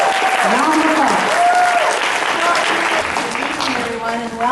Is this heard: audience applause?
yes